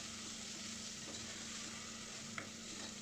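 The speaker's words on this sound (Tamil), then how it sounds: "அதையும் போட்டு நல்லா வதக்கி விட்டுக்கிறேன்" Meal maker is sautéed over a high flame for biryani, giving a soft, steady sizzle with faint scraping as it is stirred in the pan.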